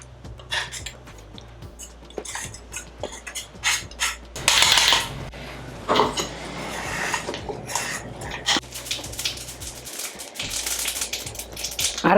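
A kitchen mixer grinder grinds roasted rasam masala in a dry, rattling clatter that surges and shifts in loudness, with brief breaks between bursts of grinding.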